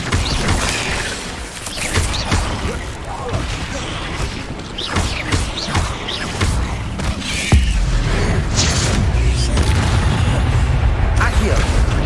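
In Hogwarts Legacy, a spell-casting battle plays out: sharp whooshing bursts, thuds and crackling impacts follow one another against a dense, constant game-effects din, and a steady roar takes over near the end.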